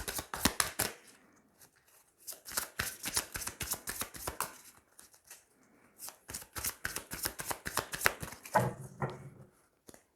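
Tarot cards shuffled and drawn by hand for a daily reading: a rapid run of crisp, close riffling and slapping card snaps in bursts, with short pauses between and no talking.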